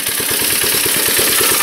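A small go-kart engine idles with no throttle response, producing a loud, close, rapid and even chugging pulse that beats steadily throughout, with no rise in revs and no voices.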